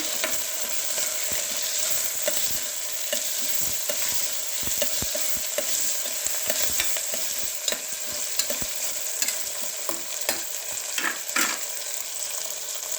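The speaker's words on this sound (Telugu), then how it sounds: "బీన్స్ ఉన్నాయి బీన్స్ వేస్తున్నాను" Beans and mixed vegetables fry with curry leaves in a pan, giving a steady close sizzle. Frequent sharp scrapes and knocks from a stirring spoon run throughout. No voices.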